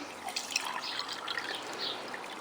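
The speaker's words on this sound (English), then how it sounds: "Here I have 200 millilitres of cold water." Cold water is poured into a cup for a Russian Special Forces mountain ration drink, a soft, close trickle and splash lasting a couple of seconds.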